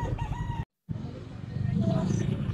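Chickens at an outdoor market selling pigeons and other birds: clucking and a crowing call near and fairly loud, with a short cut partway and a busy background and voices in the crowd.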